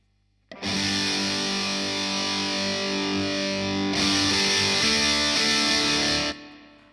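Electric guitar through a Boss DS-1 distortion pedal, fizzy and saturated: long sustained distorted chords, loud and dense with buzzing upper edge, a chord change midway, then a cutoff and brief decay.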